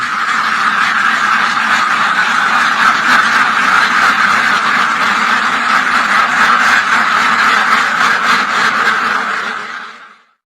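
A dense flock of Pink Star and Khaki Campbell ducks on a duck farm quacks loudly and continuously, many overlapping calls forming a steady chorus that ends abruptly.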